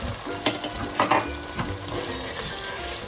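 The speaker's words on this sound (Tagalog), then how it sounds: "Halo-haloin po natin palagi. Para madaling maluto yung tomatoes." Chopped tomatoes sizzle in a pan for pav bhaji, with a few scraping stirs of a spoon rising over the steady frying hiss, close and moderately loud.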